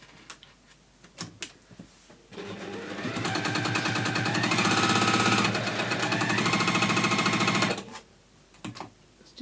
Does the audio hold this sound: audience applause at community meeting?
no